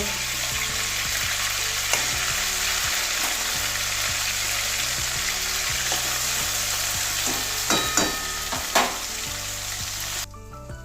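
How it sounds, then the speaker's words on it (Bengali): Steady, loud sizzling of fish frying in hot oil fills the clip, with a few light clinks of a utensil near the end; no one speaks. "বাকি মাছগুলো ওইভাবেই ভেজে নেব"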